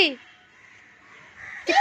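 Crow cawing on a rooftop, a harsh call at the start and another at the end, with faint background sound between.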